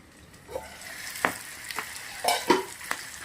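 Stuffed green chillies cook on a griddle with a low, quiet sizzle under a few scattered clicks and scraping taps of a utensil, close by, with no speech.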